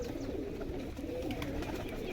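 Pigeons cooing in a loft of racing birds being prepared for the 2025 flying season, low soft coos continuing steadily through the clip over a constant background hum, with no talk.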